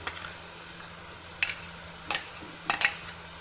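Quiet sizzling with a few sharp scraping strokes of a utensil stirring a blended carrot mixture for gajar ka halwa in a pan, spaced irregularly, close by.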